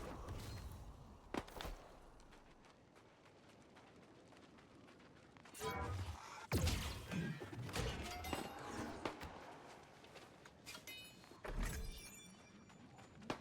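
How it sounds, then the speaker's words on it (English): Several sharp bursts of gunfire ring out in a busy scene in the video game New World, in short clusters with thuds and impacts, fairly loud over a muffled background. "Yeah, there's gunshots."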